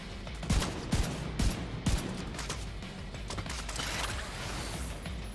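Rapid bursts of automatic gunfire from a firefight in The Division 2, several sharp volleys close together in the first two seconds, then a steadier rattle of more distant shooting.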